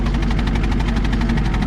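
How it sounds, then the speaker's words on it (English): An excavator's diesel engine idles through its muffler with a misfire, producing a loud, steady low rumble pulsing in rapid, even beats with an uneven knock, close and alone with no voices. "which is the way the muffler sounds. It sounds like it's still got a miss"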